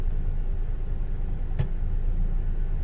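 A 2012 Chevrolet Cruze 1.8 LS sedan pulls away in drive, with a steady low engine hum and road rumble running throughout and a brief sharp click partway through.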